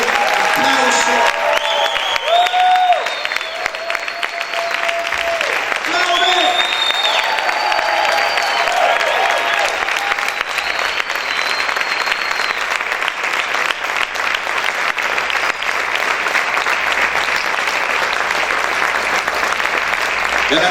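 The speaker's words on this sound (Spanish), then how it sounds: "Dale ese fuerte aplauso." A church congregation gives a strong, sustained round of applause after a prayer, dense clapping filling the room for about twenty seconds, with voices calling out over it.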